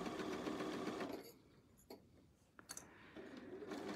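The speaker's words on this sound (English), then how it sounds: "And now I'm back sewing again." A sewing machine runs in a steady fast whir, stops for a couple of seconds with small clicks, then starts stitching again.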